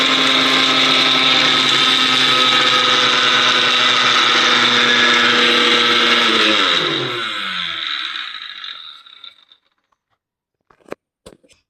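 A kitchen mixer grinder whirs loudly and steadily as it grinds garlic and tamarind for chutney, then winds down and falls silent, followed by a few faint clicks and knocks.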